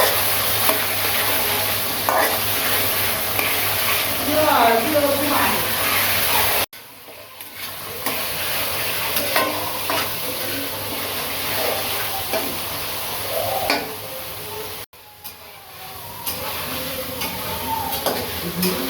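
Meat and tomatoes frying together in a pan, loud continuous sizzling with constant stirring and scraping, cut by two brief abrupt breaks, with faint voices in the background.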